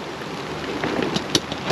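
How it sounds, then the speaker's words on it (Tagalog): Heavy rain during a typhoon in the Philippines pours down as a dense, steady hiss with a few sharper splashes and gusts, near and fairly loud, with no voices. "lumakas na yung ulan oh"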